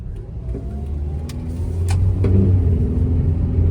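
A Toyota engine with a cold air intake rumbles nearby and revs up, its roar swelling louder toward the end of the burst.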